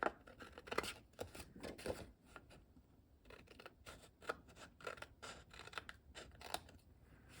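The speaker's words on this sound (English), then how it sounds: "So I can grab my scissors and do some trimming." Scissors snip repeatedly through paper in quick, uneven bursts of crisp cuts, close and fairly quiet, with no talking.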